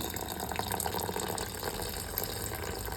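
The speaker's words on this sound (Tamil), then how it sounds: "இங்கே பாருங்கள் வாட்டர் ஆட் பண்ணிக்கிறேன்" Water poured into ground urad dal batter for a healthy urad bean porridge, a steady continuous wash of splashing liquid lasting throughout, fairly close and moderately loud with no talk.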